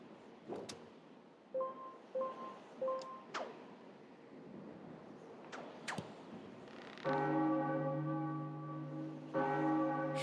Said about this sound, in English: Time to ring a bell?